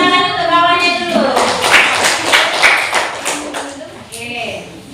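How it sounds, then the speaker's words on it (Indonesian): Classmates in a fifth-grade classroom clap for a fellow student, a dense burst of hand claps running throughout, mixed with children's voices and a teacher speaking over it. "Tepuk tangan untuk kawannya dulu."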